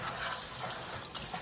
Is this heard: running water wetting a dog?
yes